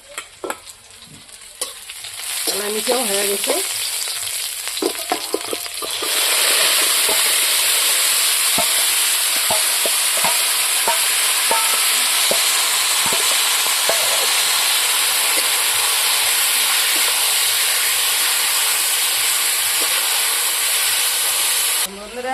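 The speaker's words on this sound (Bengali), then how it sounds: "এখন আমি মাংসটা তড়ে দেব" Marinated mutton (goat meat) sizzles loudly in hot oil in a pan as it is stirred for a Bengali mutton curry; the frying hiss rises sharply partway through and holds steady, with scraping stirs and a brief voice early on.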